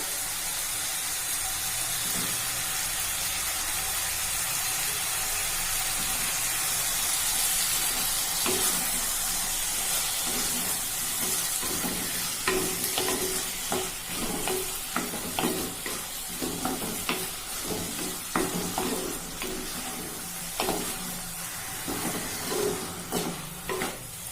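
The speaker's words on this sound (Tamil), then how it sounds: "கத்திரிக்காய் போட்டு ஒரு 2 நிமிஷம் நல்லா வதக்கியாச்சு" Brinjal sautéing with tomato in a pan for Tamil kara kulambu gives a steady, loud sizzle and hiss. Rhythmic stirring scrapes and taps grow busier in the second half, close and without speech.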